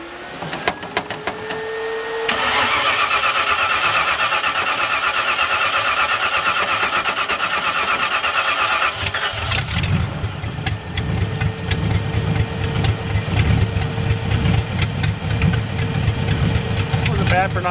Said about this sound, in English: We'll do a couple of previous revival cold starts